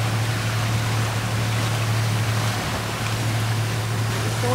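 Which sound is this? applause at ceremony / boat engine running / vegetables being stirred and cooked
boat engine running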